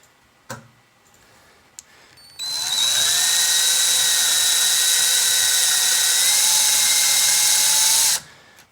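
A power drill boring a small hole into a stripped screw as part of a screw extractor kit: a few faint clicks, then a loud, steady high-pitched whine that runs for about six seconds before stopping abruptly.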